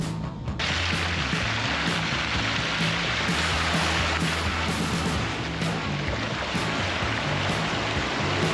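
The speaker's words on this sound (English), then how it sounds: "That's a little bit more rain than I thought there would be." Steady rain falls during an off-road caravan trip through Cape York, a dense, close hiss like rushing water under a low, droning vehicle rumble that carries on without a break.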